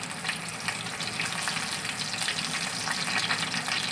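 Bay leaves, curry leaves and spices sizzle and crackle steadily in hot oil in a pan, with a dense, bright frying hiss and no talking.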